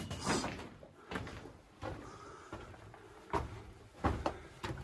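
An old door in an abandoned mine is worked open, making several knocking and scraping bumps spread over a few seconds, close by in a quiet space.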